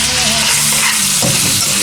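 Ham fries hard in a hot pan and gets stirred, a loud continuous sizzle with scraping and shuffling of the meat partway through, alone with no one talking.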